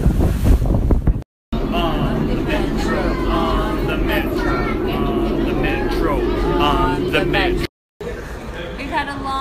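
Wind buffets the microphone and waves wash steadily around a packed tourist boat off Porto, Portugal, a loud continuous roar with people chattering throughout and two brief dropouts.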